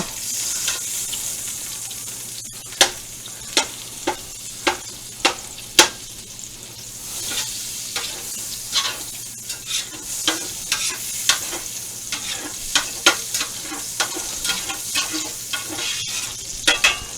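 Chopped vegetables tossed into a hot pan for chicken fricassee sizzle steadily while a utensil scrapes and stirs in repeated sharp strokes, close and clear, with no talking.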